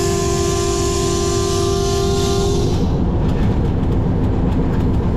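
A Pakistan Railways locomotive rolls over rough, jerky track between Haripur Hazara and Havelian, heard from inside the cab as a loud, steady rumble with a sustained tonal whine that cuts off partway, then rattling clicks.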